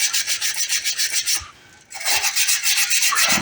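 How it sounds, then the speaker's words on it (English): Abrasive Gator strips sand solar light parts in quick back-and-forth rubbing strokes, a rhythmic rasping close up that stops briefly midway and resumes, with no voices. "we'll just smooth it out with the Gator strips"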